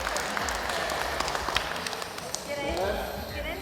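Applause from a family reunion group in an office, steady clapping blended with lively chatter and voices talking throughout.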